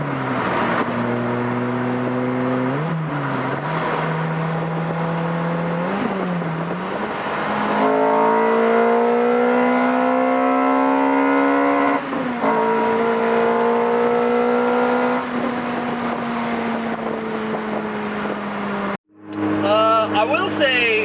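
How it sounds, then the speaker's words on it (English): A Lotus Exige with a JanSpeed Stage 2 exhaust drives with a buzzy, raspy note, engine rising and falling through gear changes, loud and close, with a brief cut near the end. "I got that JanSpeed Stage 2 exhaust on this. It is buzzy."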